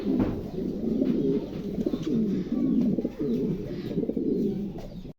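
Several pigeons coo in soft, repeated throaty bursts close by, including a breeding pair with the female sitting on eggs, overlapping in a low rolling rhythm with a few faint chirps.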